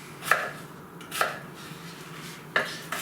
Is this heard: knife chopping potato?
yes